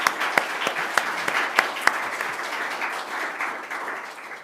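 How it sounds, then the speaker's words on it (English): Audience at a Senate District 36 candidate forum clapping for the candidates; a few sharp individual claps start it off, then a moderate, even round of applause fades gradually. "Give them a hand."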